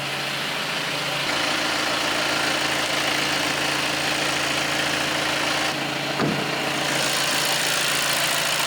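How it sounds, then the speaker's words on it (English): A VW Tiguan diesel engine idles steadily, a smooth continuous low hum with a faint vibration, close and even throughout with a brief shift partway through. "For a diesel, the engine is actually quite"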